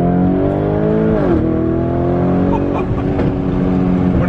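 A widebody Lamborghini Urus engine revs hard nearby, its loud exhaust note climbing and dropping with rough, crackling bursts as the revs fall, continuous throughout.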